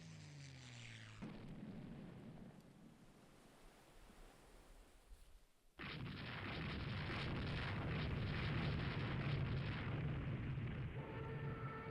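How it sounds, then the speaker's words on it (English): Torpedo and dive bombing attack in the naval strategy game Rule the Waves 3: a low, rumbling wash gives way to a sudden, loud, sustained roar of explosive noise that fills the last half. "We are torpedo bombing and dive bombing, it looks like."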